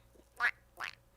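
A person imitates a duck with two nasal quacks, a louder one followed by a slightly shorter one after a brief pause, close and clear against a quiet room.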